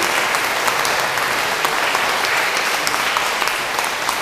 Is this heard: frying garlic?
no